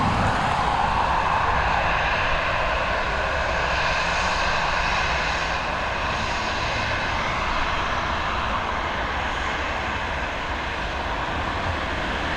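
Aer Lingus airliner roaring with steady broadband jet engine noise as it departs Dublin Airport for Faro, loud and continuous throughout.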